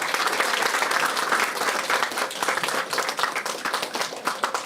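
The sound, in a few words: audience applause for performer Ashwini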